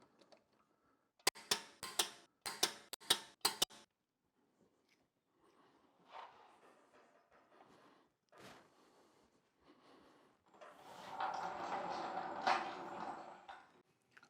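A BMW's wheel goes back on with its lug nuts torqued to 105 foot-pounds: a quick run of sharp metallic clicks up close, a few isolated knocks, then a longer rough scraping clatter.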